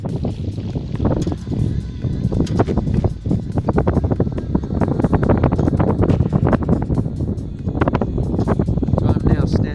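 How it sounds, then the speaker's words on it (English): Strong gusting wind on a sailing yacht buffets the microphone in a constant loud roar, with flapping and rushing noise throughout and no clear speech. "It's a lovely day, just very windy."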